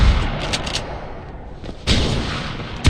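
Heavy gunfire in Mirror's Edge, a rumbling barrage of shots with a couple of sharper bursts, loud and close, with no voices.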